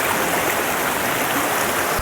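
A jungle river flows steadily as someone wades across it on a fishing trip, a continuous close rush of water with no talk.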